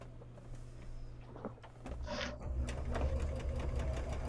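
A sewing machine runs steadily, stitching a tight zigzag stitch on a beach bag, with a close mechanical hum that picks up speed and grows louder partway through.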